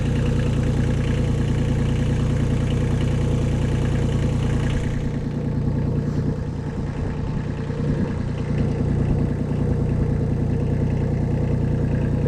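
A 1984 Kubota L235DT four-wheel-drive tractor's diesel engine idles steadily and loudly up close, with a shift in its throbbing note partway through as the clutch is released, no voices.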